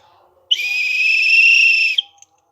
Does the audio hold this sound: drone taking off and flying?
no